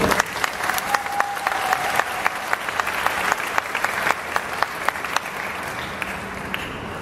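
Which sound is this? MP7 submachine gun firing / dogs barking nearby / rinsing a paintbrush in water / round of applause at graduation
round of applause at graduation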